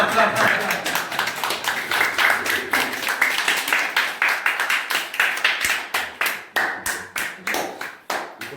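A small group claps steadily, starting as dense applause and thinning into slower, distinct claps with some voices underneath.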